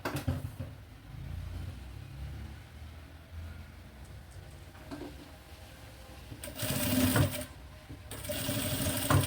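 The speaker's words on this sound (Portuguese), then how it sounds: "E vai costurar." A domestic sewing machine stitches through fabric squares for a maternity bag, a steady low mechanical whir running under a faint background and swelling into louder, faster bursts near the end.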